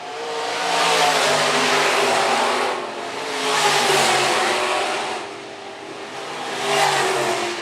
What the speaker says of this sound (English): Straight away, Kaltzman probably having a tough time seeing where to plant that 4G Moon Racing chassis